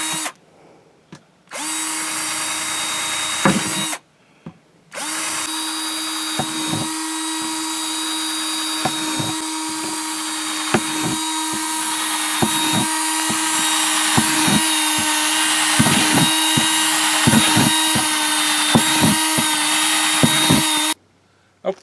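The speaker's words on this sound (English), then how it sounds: "what we're going to do now is drill these holes in the bottom" A power drill bores a rapid series of holes in a plastic tote bin for a worm bin, whining in long steady runs broken by short pauses and clicks as the bit goes through.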